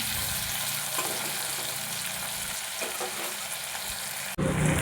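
Onion and tomato fry in a pan with a little salt for a Bengali rohu fish dish in mustard and poppy seed paste. A steady, close sizzle runs throughout, turning briefly louder and brighter at the very end.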